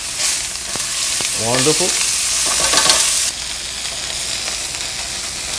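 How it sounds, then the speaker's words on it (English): Chicken sears in a hot pan with a loud, steady sizzle and hiss up close, with a brief spoken word partway through. "And we're just going to let this sear about another minute."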